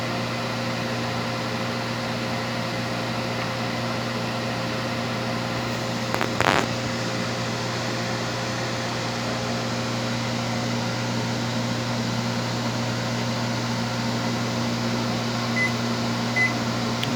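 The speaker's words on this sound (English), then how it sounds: "I think this microwave was fixed." A Panasonic microwave oven runs steadily with a constant low mechanical hum and fan drone, broken by a brief click-like burst partway through, with no voices.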